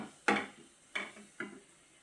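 A spoon scrapes and stirs food around a cooking pan in three distinct strokes, the first the loudest, each followed by a short fading scrape, close and otherwise quiet.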